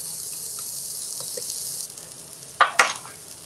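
A homemade meat patty, made as pet food, fries in a pan with a steady soft sizzle that drops lower partway through, followed by two sharp clattering knocks near the end.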